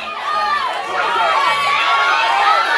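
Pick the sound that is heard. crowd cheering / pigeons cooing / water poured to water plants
crowd cheering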